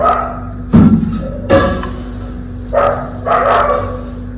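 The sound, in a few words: dogs barking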